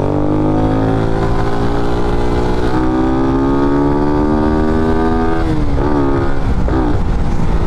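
A Raider 150 Fi motorcycle with an open airbox runs close by, its engine note droning steadily, then rising in a long climbing rev before dipping and wobbling through shifts near the end, loud and unaccompanied.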